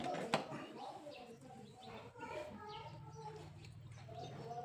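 Chickens clucking on a rural Lao smallholding, with several birds calling softly and intermittently at close range beneath steady talk and outdoor background noise.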